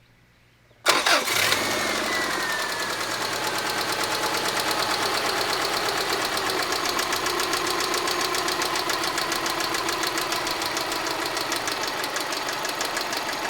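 A high-mileage 2003 Subaru Outback engine cranks and catches after a moment of quiet, then settles into a steady idle with a loud, fast, even ticking running through it for the rest of the clip, with no talking.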